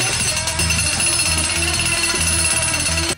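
Jackhammer pounding while used to make a painting, a loud, steady rapid hammering with a rhythmic mechanical pulse, close up and running continuously before cutting off at the end.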